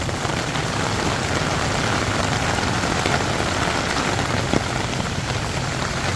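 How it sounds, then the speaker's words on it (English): Heavy rain pours steadily onto Sukhumvit Road in Bangkok, a dense, even hiss of drops striking pavement and surfaces, loud and unbroken throughout with no voices. "This is just one day of rain probably."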